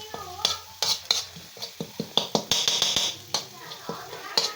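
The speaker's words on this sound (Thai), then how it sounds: "ทำกินต้องเคาะกระทะแบบนี้" Metal spatula knocks repeatedly against a wok while holy basil and chili are stir-fried at home, a rapid series of sharp close clanks and scrapes with a light sizzle underneath.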